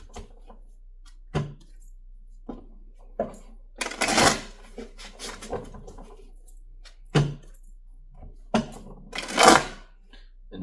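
Tarot cards are shuffled and handled at close range in several quick, sharp bursts of riffling and slapping, with quiet gaps between them.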